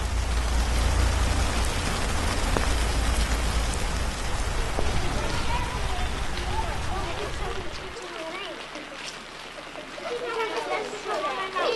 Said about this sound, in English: I love the rain. I like how it makes that cool noise when it hits the ground